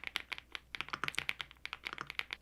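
Quick typing on a Rainy75 mechanical keyboard: a rapid, uneven patter of soft, muted keystrokes at close range, fairly quiet, with no voices.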